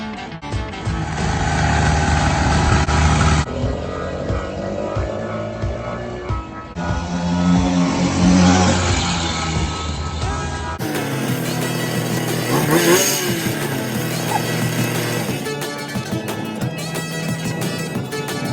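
Motorized fat tire budget beach cruiser bike with its small engine running and revving, a loud buzzing drone that rises and falls in pitch over several stretches, close to the microphone with no talking.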